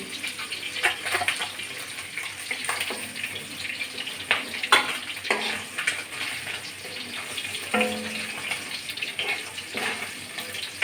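Rohu fish heads fry in hot oil with a steady loud sizzle and crackle, and a few utensil knocks break in now and then.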